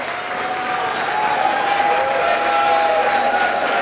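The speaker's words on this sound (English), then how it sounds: "Ironic applause" An arena crowd at a US Open pool championship match gives sustained ironic applause, a steady rush of clapping with a faint held tone running through it and light crowd noise underneath.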